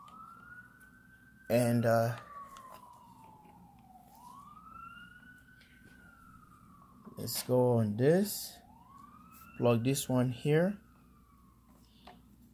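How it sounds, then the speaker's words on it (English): Emergency vehicle sirens wail outside, rising and falling in long sweeps at a moderate distance, while someone talks indoors at intervals over them. "Sorry for the sirens."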